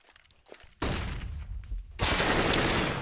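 Gunfire in a Counter-Strike match, the ESL UK Premiership game between Reason and Ufrag: quiet footsteps, then a sudden loud burst of rapid shots and, after a short dip, a second sustained volley.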